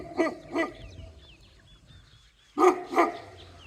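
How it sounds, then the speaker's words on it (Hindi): A large, aggressive-sounding dog near a roadside stop on the way to Hunza, Pakistan barks loudly and close by, two sharp barks, a quiet pause, then two more barks. "ये कुत्ता है जो मुझे वीडियो नहीं बनाने दे रहा"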